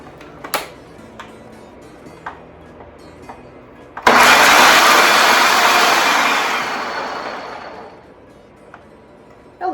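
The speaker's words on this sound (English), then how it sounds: "So we're gonna put those in our food processor." A food processor pulsing rinsed, drained lentils and chickpeas: a few faint clicks, then one loud whirring burst of about four seconds that fades out, with quiet clicks after.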